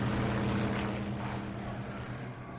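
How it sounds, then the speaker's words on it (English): A helicopter in The Darkness video game drones steadily with a low rotor throb and broad engine wash throughout, loud and continuous with no speech over it. "Helicopter attacking me?"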